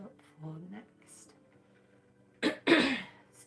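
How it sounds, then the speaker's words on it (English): A person coughs and clears their throat twice in a quick burst, close and fairly loud, after a stretch of quiet rustling and a soft vocal sound during a live Christmas craft session. "Excuse me for all the coughing and throat clearing"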